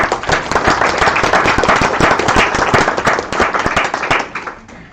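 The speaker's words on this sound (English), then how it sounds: "give yourself a round of applause" Staff at an all-staff meeting give themselves a round of applause, a close, lively patter of many individual claps that stays strong before thinning out and fading at the end.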